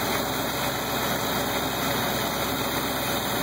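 A Chevrolet 350 V8 truck engine idles steadily up close on its first run, a constant low rumbling drone with an even throb and no other sounds.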